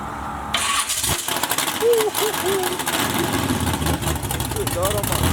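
A Cutlass race car engine fires up and revs hard, a loud, raspy roar rising and falling, with voices briefly heard underneath.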